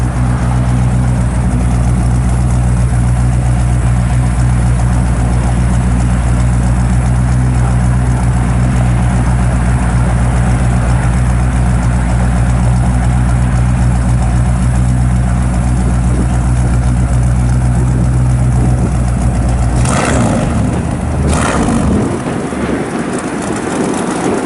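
A 1955 Chevrolet Bel Air two-door post with overdrive and a lockup converter idles behind the car, a loud, steady low exhaust rumble held close and constant, broken near the end by a brief clatter.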